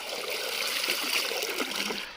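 Water gushing from a full pipe while draining a large pool for fishing in Konkan, a close, continuous splashing rush with bright spattering, moderately loud and steady throughout.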